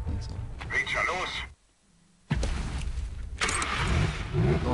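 A car engine starting in the video game Medal of Honor Warfighter, turning over and revving in bursts, with a short silent gap midway and a voice talking over much of it.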